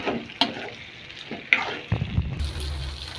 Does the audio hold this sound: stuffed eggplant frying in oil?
yes